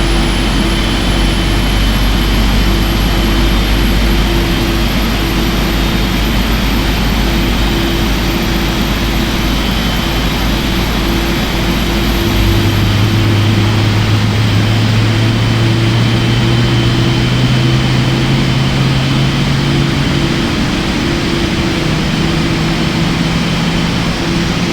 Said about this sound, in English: There we go, introduce fuel and then just listen to the starter.